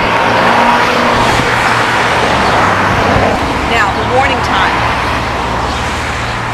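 Road traffic at medium to low volume passes by continuously, a steady broad roar of cars on a roadway with a faint tire hiss, while a person speaks briefly over it.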